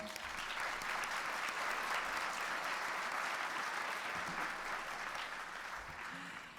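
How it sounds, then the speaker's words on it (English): Sustained applause from a luncheon audience at a women-in-STEM recognition event, a dense, steady wash of many hands clapping that holds at full strength for several seconds and eases slightly toward the end. "Let's give Dan Harris a round of applause, a big one now."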